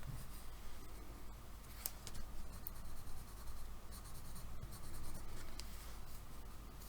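A pencil scratches and scribbles across oil pastel paper in steady, close strokes, a soft continuous gritty rasp with occasional sharper ticks and no talking.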